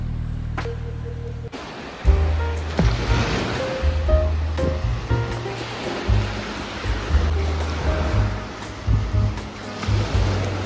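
Sea waves roll onto a sandy beach at Famagusta, Northern Cyprus, a continuous close surf roar with repeated swells and breaking surges and a faint low hum beneath.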